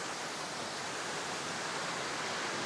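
Water pours over Lower Piney Falls in a dense, constant roar, steady and unbroken with no one speaking.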